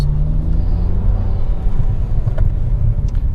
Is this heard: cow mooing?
no